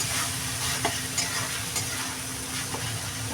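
Masala being stir-fried in oil for katla fish curry, a dense continuous sizzle with soft periodic stirring scrapes, close and steady with no voices.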